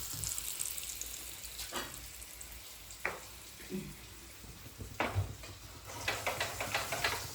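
Chicken fries in oil with a soft continuous sizzle broken by sharp pops and spatters, several louder bursts near the end.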